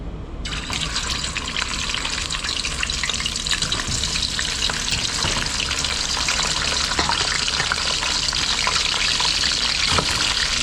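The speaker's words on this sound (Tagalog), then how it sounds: "Prito natin guys." Adobo frying in a hot pan, a loud, continuous sizzle with crackling spatter and occasional stirring, steady from start to finish with no talking.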